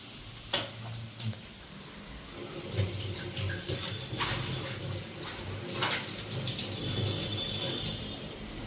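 Tamarind is washed in a sieve under running water, with a steady splashing and trickling wash close by. Occasional knocks and clatters of the sieve and vessel come through the water.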